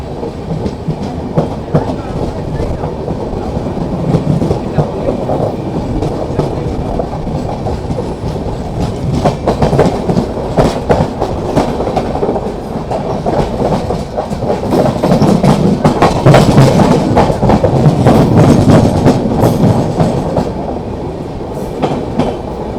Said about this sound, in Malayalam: കേരളത്തിലെ ഏക LHP ഇൻ്റർസിറ്റി റേക്ക് ഉപയോഗിക്കുന്ന വണ്ടിയാണ്